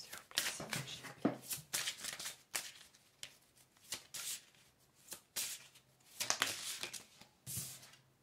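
Oracle cards are shuffled by hand in quick, soft riffling bursts, repeated in short bouts with brief pauses between, close and quiet.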